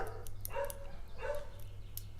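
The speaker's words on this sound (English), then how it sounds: "Oh good, the dogs are at it again." Dogs bark twice in the background, distant and muffled, spaced about a second apart over a low steady hum.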